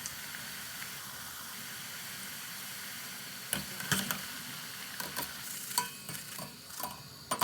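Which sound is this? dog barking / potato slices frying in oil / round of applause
potato slices frying in oil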